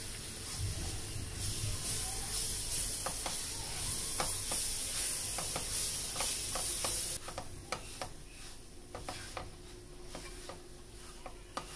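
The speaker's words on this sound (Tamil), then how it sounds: "நம்ம கொஞ்சம் நல்லா மிக்ஸ் பண்ணி விடலாம்." Milk, cream and ghee stirred together in a pan for rice flour laddu, giving a steady soft hiss and sizzle broken by repeated light scraping clicks of the spoon, close and moderately quiet throughout.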